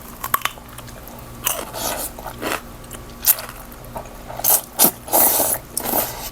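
Someone bites and chews a meal of rice noodles in spicy curry with chicken feet, close crunchy bites and wet, squishy chewing in irregular bursts separated by brief pauses.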